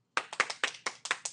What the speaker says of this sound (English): You better be clapping.